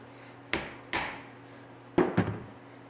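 A hammer used while reassembling a Kawasaki KLT 200C three-wheeler: four sharp, close metallic-wooden strikes, two spaced apart then a quick pair, over a faint steady hum with no talking.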